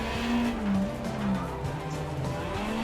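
Rally car engine from the WRC Generations racing game, a steady droning motor with shifting pitch and a brief tire-squeal edge, loud and continuous with no talking.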